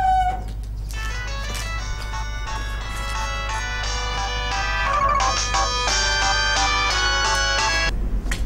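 A mobile phone rings with a bright, melodic electronic tune of repeated tonal notes for about eight seconds, loud and steady over a low hum, with no talking, in a domestic scene from a Nigerian drama film.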